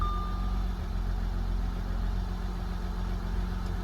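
An Audi Q5 idles steadily and near after starting, a constant low engine drone with a brief electronic beep at the start and no voices.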